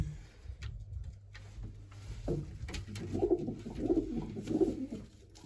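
A white-eyed female pigeon coos in a steady series of soft, low, rounded calls, close by, over a faint background hum.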